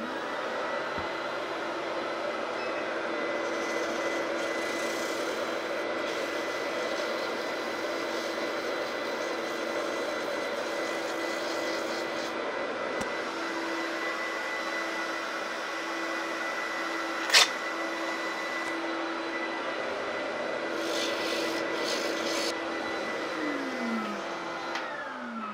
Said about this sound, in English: So, ready for sanding.